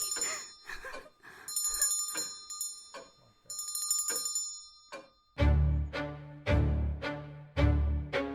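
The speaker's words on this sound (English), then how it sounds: "And that damn bell! Just driving me past the point of insanity." A small hand bell jingles in bursts amid tense sound design in a dark psychological audio drama, quick bright rings in two clusters, then heavy booming low chords take over.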